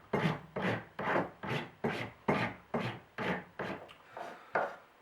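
Carving wax for a ring being filed with a hand file: about eleven distinct raspy push strokes in a regular rhythm, close and clear, each followed by a short pause, with no voices.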